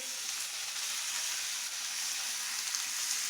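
Water poured into a hot cooking pan holding malunggay pods, producing a steady, continuous hiss and sizzle with no talking.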